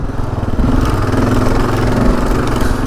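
A Gen 3 Kawasaki KLR motorcycle engine chugs loudly and steadily as the bike rides over a rocky trail, a close, rough, pulsing drone with uneven bumps throughout.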